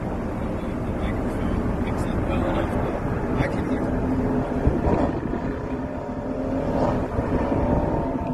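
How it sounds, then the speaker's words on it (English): Race cars roar down the Daytona backstretch, a distant, steady engine drone blended with wind noise, while people talk over it nearby. "You hear them going down the backstretch?"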